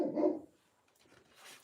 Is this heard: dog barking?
yes